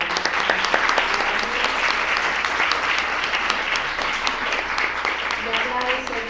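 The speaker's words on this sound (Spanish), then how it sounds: "les pido un fuerte aplauso para" Audience at a talk on body shaming gives a strong, sustained round of applause, dense clapping holding steady for about six seconds with a few voices murmuring underneath.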